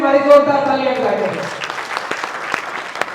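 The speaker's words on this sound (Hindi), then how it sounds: "उन भाइयों के लिए भी हमारी जोरदार तालियां बजाएं" Audience applause at a public gathering rises after a speaker's voice fades, dense clapping filling the room with a few sharper individual claps standing out near the end.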